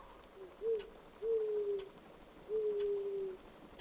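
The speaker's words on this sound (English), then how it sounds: "You hear the soft call of an owl," A soft owl call in a calm nighttime sleep-story scene: three smooth, hooting tones, the last one longest, drift faintly over a quiet, hushed background.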